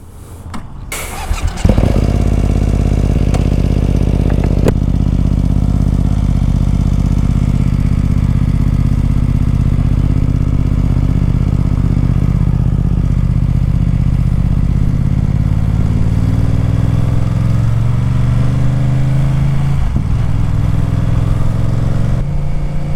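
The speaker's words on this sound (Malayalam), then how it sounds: "ഒരു റൗഡി ഫീലായിട്ടുള്ള ഒരു എക്സോസ്റ്റാണ് നമുക്ക് ഈ BMW F900 XRൽ കിട്ടുന്നത്" A BMW F 900 XR motorcycle starts with a brief clatter, then its exhaust settles into a loud, deep, growling idle and revs close by, rising in pitch near the end as it pulls away, with no talk.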